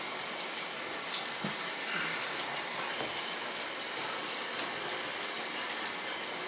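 Water runs and splashes steadily and fairly loudly while a thick-furred dog is washed, a constant gushing wash with small irregular splashes throughout and no talking.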